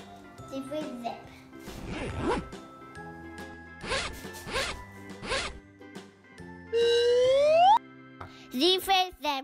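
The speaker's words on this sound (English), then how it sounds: "Z for zip." A clothing zipper is pulled in one long rising zip, loud and close, amid a cheerful children's song with a child singing, followed by short jingly tones.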